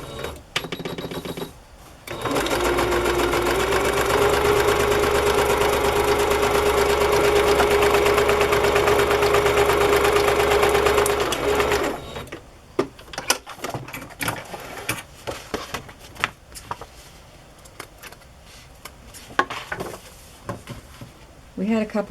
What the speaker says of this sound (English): This is pretty wide, so I'm going to give it another stitch,